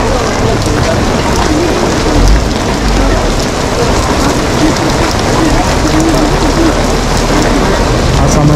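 Heavy summer rain pours steadily on a beach at Lazarevskoye near Sochi, a dense continuous hiss drumming loudly on surfaces and awnings with faint low rumbles underneath, holding constant throughout.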